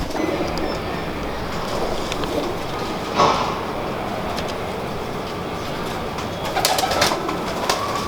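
Home-bred Ferozpuri cross pigeons cooing nearby in a loft, soft repeated coos over a steady low background hum, with a few brief louder rustles and calls.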